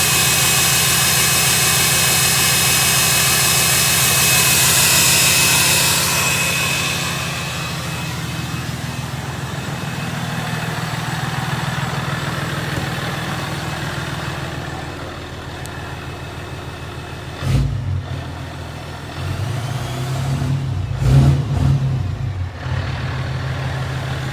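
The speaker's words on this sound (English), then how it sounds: "5-inch straight pipe, police cheetah. You can hear the cheetah turbo pretty well." A 4th-gen Cummins diesel single-cab truck with a police cheetah turbo and 5-inch straight pipe idles with a steady loud rumble and turbo whine, then revs briefly twice near the end.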